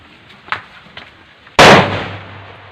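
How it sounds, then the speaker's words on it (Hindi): A sutli bomb firecracker goes off during Diwali celebrations: faint distant pops, then one sudden, very loud close blast with a ringing tail that slowly fades. "एक बार इसको ट्राई करता हूँ, सुतली बम को।"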